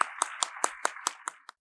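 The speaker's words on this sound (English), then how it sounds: "Let's give a big round of applause for this wonderful journey." At a tenth-anniversary event, someone claps in a sharp, evenly spaced run of about eight claps over a second and a half, close and clear with no crowd around it.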